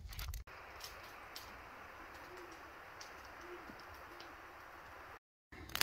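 Soft, low owl hoots sound faintly in the distance on a still 13°F winter night in snowy American Fork Canyon, with a quiet background and no voices.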